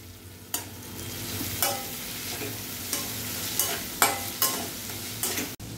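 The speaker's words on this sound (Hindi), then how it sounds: "अब ठेचा के साथ मैं इसमें ये हरा प्याज भी डाल रहा हूँ और ये रिड्यूस होने तक मैं इनको पका लूंगा।" Green onion and thecha frying in a pan for bhindi bharta, a steady sizzle broken by several sharp stirring scrapes spaced about a second apart, close and alone.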